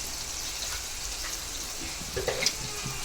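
Onion and tomato sautéing with ginger-garlic paste in a pan, a soft steady sizzle with faint clinks of stirring, no voices.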